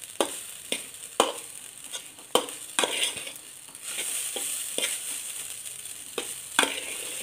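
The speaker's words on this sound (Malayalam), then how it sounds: "നന്നായിട്ട് മിക്സ് ചെയ്ത് സോസൊക്കെ എല്ലാ ഭാഗത്തും ആകുന്നത് വരെ ഒരു ഫോർക്ക് കൊണ്ട് തന്നെ മിക്സ് ചെയ്യണം." Rainbow noodles are tossed with sauce using a fork, sharp clicks and scrapes sounding at an uneven rhythm over a quiet moist shuffle, close up, with no voices.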